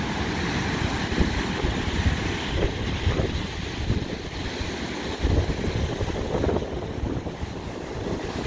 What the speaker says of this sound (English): you can see the waves are still huge because we got some high winds